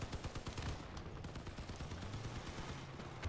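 A turret in the vehicle combat game Crossout fires a rapid, continuous burst of loud, evenly spaced gunshots that runs the whole time, with no talk over it.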